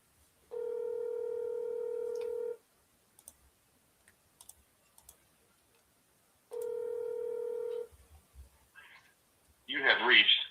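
Telephone call ringing out on a seller call, two long steady electronic ring tones separated by a pause with faint clicks, followed by a brief burst of a voice at the end.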